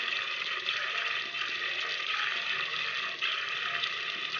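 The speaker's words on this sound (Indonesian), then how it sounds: "dengan siraman air kran yang cukup deras ya." Strong tap water sprays onto a mini projector lamp, a steady hissing gush of water that stays constant and fairly loud without pause.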